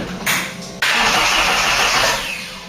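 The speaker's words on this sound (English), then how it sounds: "Right, this will turn over now." Ford Cortina Mk3 engine cranks briefly on the starter, then catches and runs, settling into a steady, loud close-up idle with no talk.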